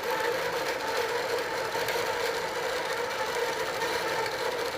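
A computerized quilting sewing machine stitching steadily, a continuous fast mechanical whir and buzz at moderate, even loudness with no voices.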